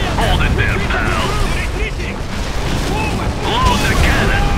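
Cannon fire in the Red Alert 3 Uprising strategy game: repeated booms in a dense, continuous battle din, with voice lines and effects layered over the top.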